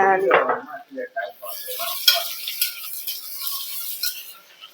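A metal ladle stirs salna curry in a pot, giving light clinks and scrapes after a short burst of talking at the start.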